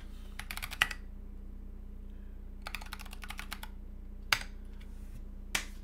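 Short bursts of rapid typing on a computer keyboard with PBT keycaps, separated by pauses and closing with a couple of single sharp key presses, quiet over a constant electrical hum.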